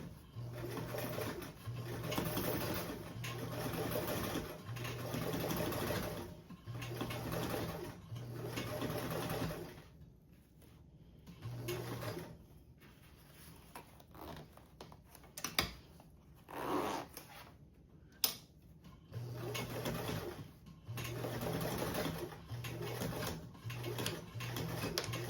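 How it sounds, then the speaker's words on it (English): A sewing machine stitches a duffle bag panel in repeated bursts, starting with a back tack and then sewing forward, with pauses and small handling clicks between runs, at moderate level and close by. "I'm going to start farther down in the back tack first and then sew forward"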